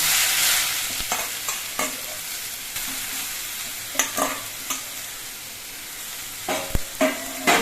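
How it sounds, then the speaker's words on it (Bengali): Grated pointed gourd and potato fry in hot oil in a home kitchen, with a steady sizzle broken by repeated scraping and clinking stirs of a spatula against the pan. "এবার এর মধ্যে যে পটল আর আলুগুলো আমি ঘষে রেখেছিলাম সেই পটল আর আলু ঘষাগুলো দিয়ে দিচ্ছি"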